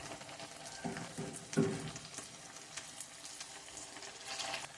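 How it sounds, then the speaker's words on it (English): Cod fillets going into a pan of frying chickpeas, with a steady sizzle and a brief louder burst of hissing as the fish lands, then continued soft frying crackle. "At this point, I'm adding the cod."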